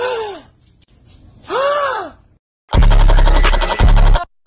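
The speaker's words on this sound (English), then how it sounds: "Gasp dramatically." A person gasps dramatically twice at a dog, each a sharp, rising and falling breathy vocal gasp, followed by a loud burst of music.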